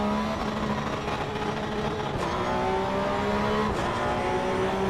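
A Porsche Cup car in the Assetto Corsa EVO racing game lapping Suzuka, its engine droning loud and steady as tyres squeal in long rising and falling whines throughout.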